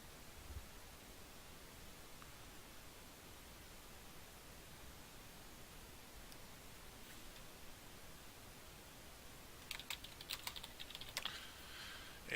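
Faint computer keyboard typing: a long stretch of quiet hiss, then a short, quick cluster of soft key clicks near the end.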